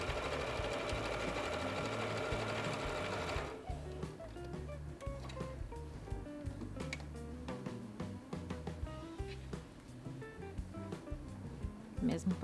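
A sewing machine with the needle-down stop runs through fabric layered with batting, first in a loud continuous buzz of stitching, then in shorter stop-start bursts of needle strokes nearby.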